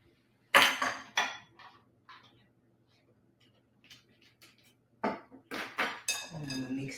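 Sweet potato pie filling is worked in a bowl with a utensil, giving sharp clinks and scraping knocks in short bursts separated by quiet pauses, close up, with a soft wet churn near the end.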